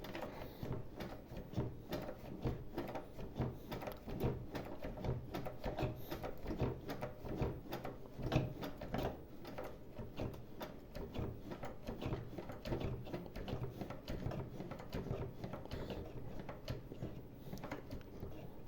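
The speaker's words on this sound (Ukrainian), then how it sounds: "Чепаємо, починаємо затискати з двох боків." Large F clamps are tightened from both sides, giving a long run of close, dry mechanical clicks and creaks in a quick, uneven rhythm.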